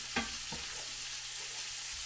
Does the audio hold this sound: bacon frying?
yes